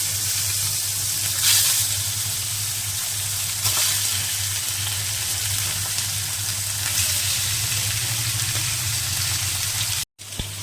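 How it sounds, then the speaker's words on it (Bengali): Bhetki fish sizzles and fries in hot oil, a steady, loud crackling hiss that runs continuously with a low background hum and cuts out briefly near the end. "এই তেলটা গরম হয়ে গেছে রে এই যে ভেটকি মাছটা দেবো এটা ভেটকি মাছ"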